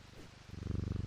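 A video game cat purrs in a steady, rhythmic loop that starts soft and swells to a louder, close purr halfway through, with no talking.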